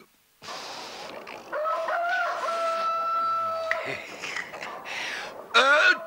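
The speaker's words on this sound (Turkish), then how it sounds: "Öt Çin horozum, öt!" A rooster crows in a long drawn-out call over crowd noise and shouting voices, followed by a second short burst of crowing near the end.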